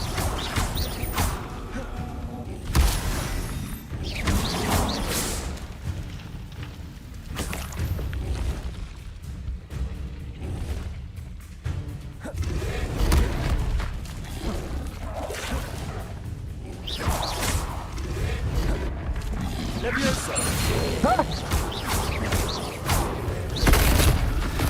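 Incendio fire spell cast in Hogwarts Legacy combat, bursts of whooshing flame and booming impacts rising and falling over a dense, loud mix of battle effects and music, with brief voices.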